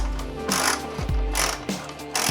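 A ratchet wrench clicks in short bursts while bolts are loosened in the engine bay of a Nissan 350Z during an intake install, the metallic pawl ticking close and loud.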